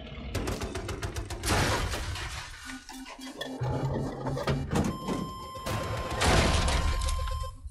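Tank machine gun in Battlefield 2042 rattling in long, dense bursts amid heavy battle noise, with explosions and crashing impacts mixed in and steady loud gunfire throughout.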